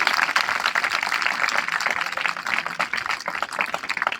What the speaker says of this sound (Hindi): अपने टीचर्स के लिए एक बार जोरदार तालियां बजाएं।